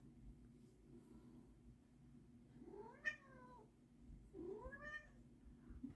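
A cat meows twice in the background, two separate drawn-out calls a couple of seconds apart, faint against a low steady room hum, with no talking.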